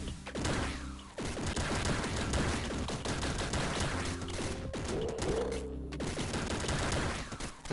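Rapid gunfire crackles in dense bursts in the video game Downwell, loud and nearly continuous with a brief pause, mixed with crashing impacts and game effects.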